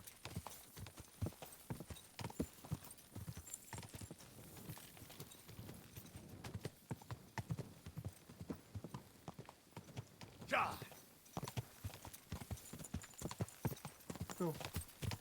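Steady rhythmic clip-clop of a horse's hooves galloping along a road at night in Kingdom Come Deliverance 2, continuous and fairly close, with a brief whinny midway and a voice urging it on over the hoofbeats.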